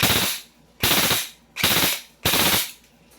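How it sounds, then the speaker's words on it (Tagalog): An airsoft M4 rifle on rapid fire, with four loud, close bursts about a third of a second long, each a dense buzzing rattle of shots separated by brief gaps and no voices. "Rapid fire natin, mga airsoft."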